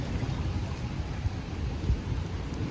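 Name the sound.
rain in Singapore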